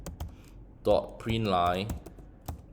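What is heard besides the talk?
typing code on a computer keyboard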